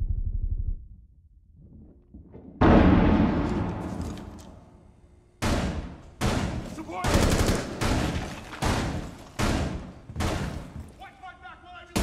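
Bursts of gunfire in Rainbow Six: Siege, a long rattling volley followed by a rapid string of loud, close shots, with speech underneath.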